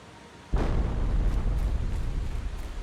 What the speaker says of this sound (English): Oh, there's another explosion bit as well.